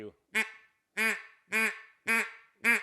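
Five short, raspy quacks from a hand-blown duck call, evenly spaced and fairly loud, each a nasal buzzing blast.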